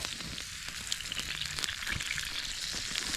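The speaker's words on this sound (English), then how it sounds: "Try to render down some fat a little bit." Steak fat sizzles steadily in a small pan inside a hot tent on a camping trip, a continuous close crackle with occasional sharper pops and no talk.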